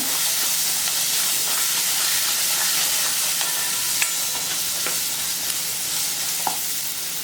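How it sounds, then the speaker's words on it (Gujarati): Spiced beans stirred in a pan on the stove, a steady soft sizzle and hiss throughout with faint scraping stirs and a few light clicks. "અને ફરી આપણે હલાવી લઈએ"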